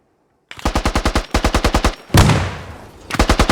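Rapid automatic gunfire from a multiplayer shooter video game, several quick bursts of evenly spaced shots, then a heavier blast with a fading tail before another burst, loud and close.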